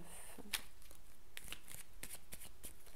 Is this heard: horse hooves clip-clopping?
no